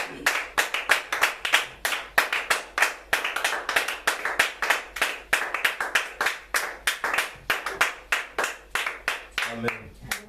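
A church congregation clapping in acclamation during worship, a brisk rhythmic run of many hands clapping together in steady beats, close and loud, with a brief voice near the end.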